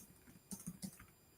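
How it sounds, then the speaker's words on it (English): Typing on a computer keyboard: a few faint, quick key clicks grouped close together midway through, with quiet room tone before and after. "I'm just typing and writing."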